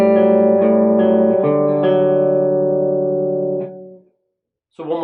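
Electric guitar picking a riff, clean arpeggiated notes ringing out with some reverb for about four seconds, then a short silence before a new chord strikes.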